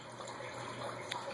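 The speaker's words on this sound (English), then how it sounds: "This water is trickling out over here." Water trickling out of the end of a half-inch pipe jammed into another pipe at a chicken coop, a steady soft flowing splash, close and continuous for just over a second, no talk.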